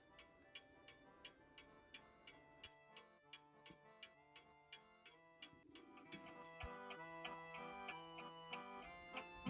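French antique table clock ticking steadily with sharp, evenly spaced ticks, close up and alone, later joined by a sustained tonal hum beneath the ticking.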